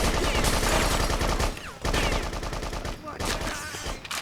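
Heavy gunfire from enemies in the Bloodrayne video game, dense rapid machine-gun bursts close and loud with brief pauses between volleys.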